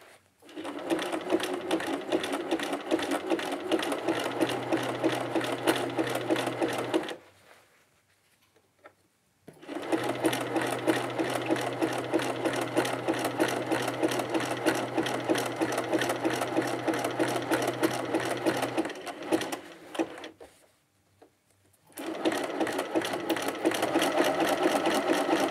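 A sewing machine stitches a side seam on a jersey dress in long, rapid, steady runs, loud and close, stopping twice for a few seconds before starting up again.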